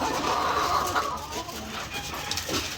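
White Leghorn x Black Australorp crossbreed laying hens cluck and murmur while being fed, a busy close flock chatter with soft scattered calls and no clear talking.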